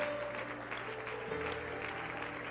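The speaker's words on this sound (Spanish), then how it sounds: "Dele ese aplauso al Señor" Steady clapping from a Pentecostal church congregation during worship, continuous and moderately distant over held organ-like tones.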